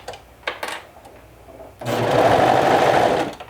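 A sewing machine stitches a bodice seam with a half-inch seam allowance, starting from the centre front. A few soft handling clicks come first, then a steady, close, loud whirring run of about one and a half seconds that stops abruptly.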